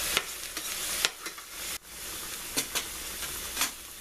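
Creamed spinach sizzling in a pan over medium heat, a steady soft frying hiss broken by occasional crackles and stirring scrapes, close and moderately quiet.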